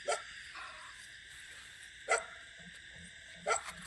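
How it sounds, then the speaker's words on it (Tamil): A dog barks at night, a few sharp barks some distance away with quiet gaps between them, during a tense lights-out scene. "அன்டைமில் வந்து மட்டும் நாய் வேறு குலைக்குது."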